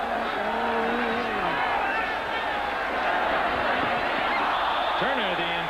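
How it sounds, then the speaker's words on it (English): A large football stadium crowd at a college game between Houston and Illinois roars and murmurs in a sustained, dense wash of voices, with occasional whistles and shouts rising above the steady noise. "you can hear what the crowd thinks of that coverage by John Brown"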